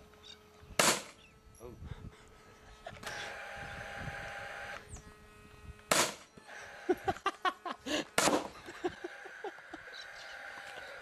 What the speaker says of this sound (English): You'll hear the gun as it makes its noise.